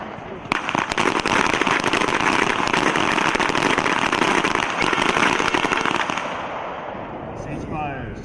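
Rapid volleys of pistol shots ring out at an outdoor Army team pistol match, many sharp overlapping cracks in quick succession for about five seconds, then tapering off into quieter range noise.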